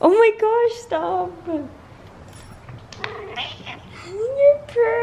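A pet cat meows several times at home, drawn-out and close, with soft background noise between calls.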